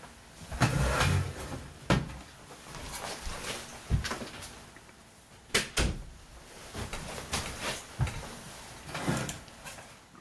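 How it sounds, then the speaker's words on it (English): A room door is shut amid housekeeping noise, heard as a series of close, sharp wooden thuds and bumps spread over several seconds against a low background rustle. "I had to shut the door to the room."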